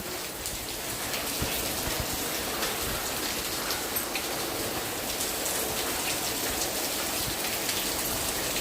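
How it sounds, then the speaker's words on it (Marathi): Heavy rain pouring steadily onto a hard surface, a dense continuous hiss with scattered louder drops, no voices. "भयानक पाऊस"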